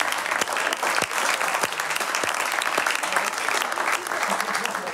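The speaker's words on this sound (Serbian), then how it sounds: "Ora, aplauz može." A studio audience on a Serbian TV talk show breaks into dense, sustained applause, many hands clapping steadily and fairly loud, with a few individual claps standing out, no voices over it.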